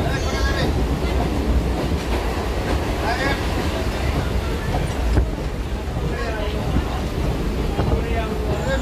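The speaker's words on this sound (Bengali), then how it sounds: "আমরা জয়নগর স্টেশন থেকে ট্রেনে উঠেছি" Rhythmic clickety-clack of rail wagons heard from inside a moving passenger train departing Joynagar station, a loud, continuous rumble with repeated wheel clicks throughout.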